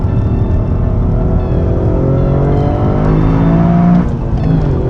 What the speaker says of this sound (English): I can see why they say this is the most powerful 3-cylinder engine out there